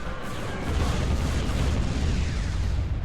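Imperial bombing run in Star Wars: Empire at War, a continuous rumbling barrage of overlapping explosions with deep low booms, steady and loud throughout with no talk.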